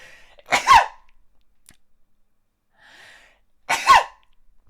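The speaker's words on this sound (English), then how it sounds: "I'm gonna sneeze" Two sharp sneezes, a few seconds apart, close and loud with quiet breathing in between.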